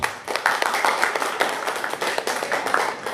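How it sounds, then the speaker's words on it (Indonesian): Audience at a school event at SMA Negeri 1 applauding, a dense, fairly loud clatter of many hands clapping steadily for a few seconds with scattered sharper claps. "Sekali lagi minta aplaus yang meriah buat kita semua"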